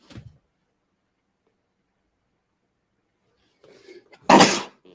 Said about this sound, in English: Oh, I've got a sneeze coming now, lads.